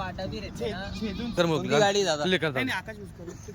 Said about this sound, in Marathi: बकरे हो,